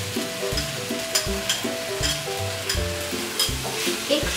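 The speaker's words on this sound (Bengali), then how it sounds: "এর মধ্যে দিয়ে দিচ্ছি ক্যাপসিকামের টুকরোগুলো, অল্প নাড়াচাড়া করে নিয়ে দিচ্ছি এর মধ্যে টমেটো কুচি।" Capsicum pieces and chopped tomato for a potato-capsicum vegetarian dish sizzle and get stirred in a hot pan, with repeated scrapes over a rhythmic tonal backing that sounds like music.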